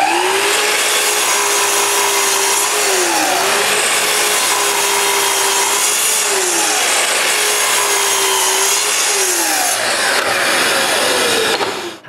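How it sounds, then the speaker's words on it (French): A power saw cuts a length of wood into several removable pieces for a doweling jig, a loud steady close-up roar with the motor pitch dipping and rising as each cut bites, running continuously without any voices. "Je vais en couper plusieurs à partir de ce morceau-là."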